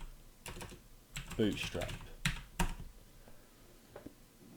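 Several bursts of computer keyboard typing come in quick clicks close by, separated by short pauses, while someone speaks briefly over them.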